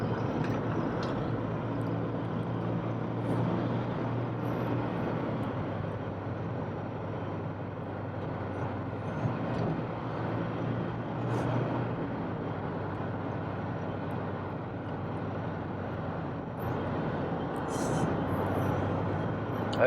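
A car engine drones steadily under load while driving in fourth gear, a continuous even low rumble with little change in loudness, in a vehicle whose transmission has been worked on.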